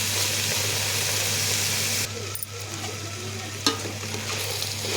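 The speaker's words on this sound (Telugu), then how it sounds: "ఇప్పుడు ముక్కలకు నూనె అంతా పట్టేటట్టు కలిపిన కొంచెం సేపు మూత పెట్టుకుందాం." Vegetable pieces tossed in oil in a pan, a steady loud sizzle that drops and thins partway through, with a single sharp clink of the utensil afterward.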